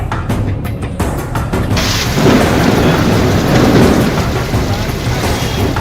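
Heavy rain pours steadily during a thunderstorm with lightning strikes, with a rolling rumble of thunder building beneath the loud, dense downpour and no voices.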